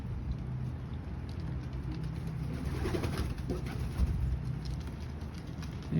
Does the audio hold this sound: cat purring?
no